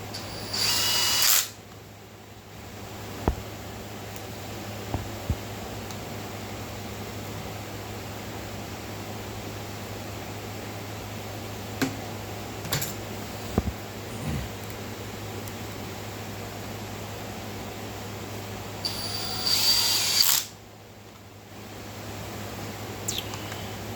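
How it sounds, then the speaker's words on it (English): A power drill drives screws while a CS-2511T is reassembled, giving two short whirring bursts, one at the start and one near the end, over a steady low hum and quiet handling noise. "and then you put your screws in"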